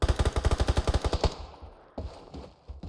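Automatic gunfire in the battle royale game PUBG: a rapid burst of about a dozen loud, evenly spaced shots, then a short tail and a couple of scattered distant shots in quiet.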